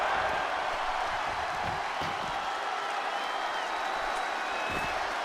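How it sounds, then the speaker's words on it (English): A wrestling crowd cheers and applauds steadily from a distance, a dense, even wash of noise that holds for several seconds without letting up. "You see the crowd now getting behind the Witch right now"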